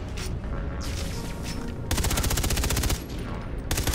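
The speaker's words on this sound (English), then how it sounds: "Wow, this high rate of fire is pretty awesome." Fast automatic fire from a high fire-rate gun in Blood Dragon 3, sharp rapid bursts with a brief pause, the final second and a half a dense, evenly spaced stream of shots.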